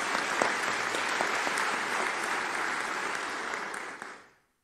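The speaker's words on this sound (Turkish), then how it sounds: "Ben öncelikle hep beraber yol arkadaşlığı yaptığımız insanlarımızı bir kere daha alkışlamanızı rica ediyorum." Hall full of political rally attendees in Turkey applauding, a sustained broad roar of clapping that holds steady, then fades out and cuts to silence near the end.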